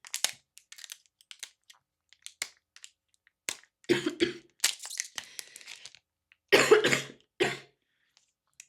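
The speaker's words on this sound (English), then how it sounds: "I had to go get water for my cough." Several bursts of coughing, close and harsh, scattered irregularly with quiet gaps, including a few clustered, heavier coughs.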